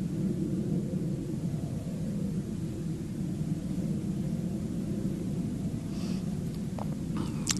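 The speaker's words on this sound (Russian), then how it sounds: "Два самолета сейчас в воздухе летят." A low, steady roar of two military jet aircraft passing high overhead at night near Chernihiv, a broad rumble that holds throughout with no voices.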